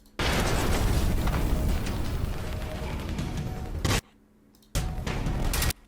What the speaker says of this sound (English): that's the rocket is much faster